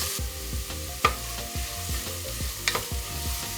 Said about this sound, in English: and sweat the onions